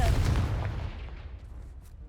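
Confringo fire spell explosion in Hogwarts Legacy, a single booming blast that fades into a rumbling tail, fairly quiet overall.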